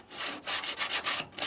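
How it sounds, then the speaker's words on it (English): Light hand sanding of seam sealer on the inside of a Nissan Gloria quarter panel: close, repeated back-and-forth abrasive strokes in a steady rhythm, with a short pause partway through. "So do a light sanding there."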